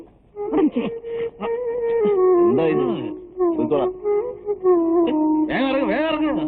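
Dogs howl in long, wavering tones that rise and fall, several drawn-out cries overlapping with whimpers and yips, loud and close.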